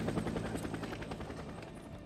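In the video game Days Gone, a helicopter passes with a steady, fluttering rotor wash, faint and distant, with no voices.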